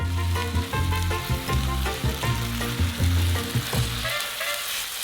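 Chili con carne with Worcestershire sauce and a little dark chocolate sizzles loudly in a pan while being stirred, the frying hiss steady and close with repeated scraping stir strokes throughout.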